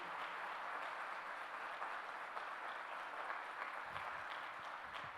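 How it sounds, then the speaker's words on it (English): A large conference audience at an AI summit applauds in a sustained, dense wash of clapping that carries evenly from start to finish, with no voices on top. "Can we hear a big round of applause to this gentleman,"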